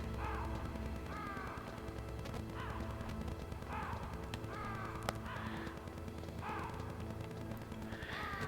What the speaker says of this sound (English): why the hell are the crows back in here?